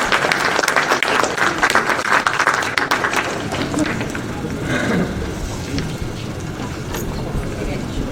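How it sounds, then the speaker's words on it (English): Audience applause for Eddie Price at a US–Nepal 75th anniversary celebration, a dense wash of many hands clapping that starts loud and thins toward the end, with talk mixed in underneath. "Can I please have a huge round of applause for him?"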